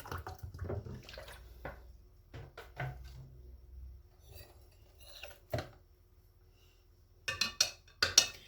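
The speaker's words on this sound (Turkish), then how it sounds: "Biraz daha üstüne su eklemek istiyorum ben bunu." Rested water is poured into an aloe vera mixture in a container, with soft trickling and splashing, quiet handling clicks and clinks, then a few louder sloshes near the end, heard alone without talk.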